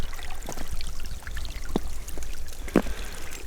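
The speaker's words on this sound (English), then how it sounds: "This one looks like a real creek, kids." A seasonal creek runs shallow and muddy beside a willow tree, a steady close gurgle and trickle with a few brighter splashy pops, continuous and moderately loud with no voices.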